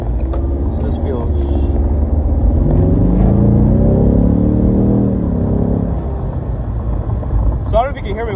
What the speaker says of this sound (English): I don't know if you can hear me with all this wind